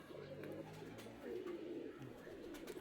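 A domestic loft pigeon coos softly in a few low, throaty rolling phrases, faint and close, with quiet background noise and no talk.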